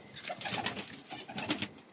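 A king pigeon coos softly in a repeated low, throaty pattern, close by and fairly quiet, in a rooftop aviary, with no talking.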